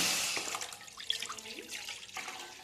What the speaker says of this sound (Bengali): আগের থেকে দুধ ঘন করা ছিল, আমি এখানটা সবকটা ঢেলে নেব।